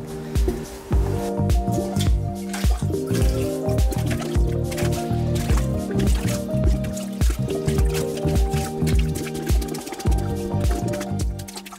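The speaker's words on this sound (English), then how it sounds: "Sometimes it can be as easy as just using a plunger to get that water out of there." A plunger works in a toilet bowl while the old wax ring is being replaced, making repeated wet squelching plunges and splashing water in a steady rhythm, close and fairly quiet.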